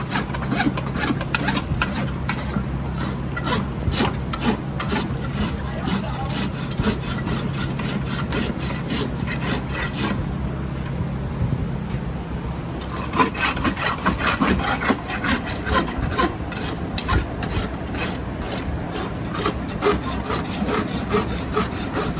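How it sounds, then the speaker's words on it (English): A farrier's rasp grinds off the clinched nail ends on a horse's hoof before the shoe is pulled, a loud, steady run of fast back-and-forth rasping strokes with a short pause midway, a faint motor hum underneath. "pick up the foot, rasp the nails off so I can pull the shoe"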